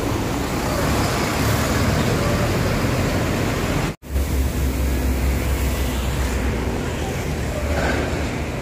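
A bus passes along a busy road by a fuel station in Pejagan, a loud, steady broadband roar of engine and traffic that stays close for several seconds, broken by a brief dropout midway.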